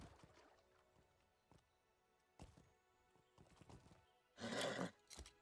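In the video game Lord of the Rings Online, horse hooves splash and clop through shallow water at a steady pace, with a loud snort or whinny-like burst near the end.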